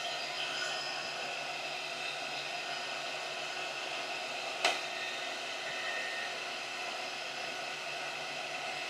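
A heat gun blows hot air onto a vinyl topo overlay on a rigid 360 series 4-inch surface, giving a steady, even whooshing roar broken once by a brief click partway through.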